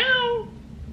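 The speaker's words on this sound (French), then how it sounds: "Miaou." A house cat gives one short, clear meow that falls away within half a second, followed by quiet room noise.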